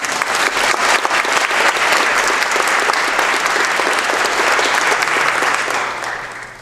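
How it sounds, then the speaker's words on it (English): Audience applause at a museum lecture, steady sustained clapping from a full room that holds evenly for several seconds before tapering off at the end, with no speech. "I hope you'll all join me in giving another round of applause to our wonderful curatorial team"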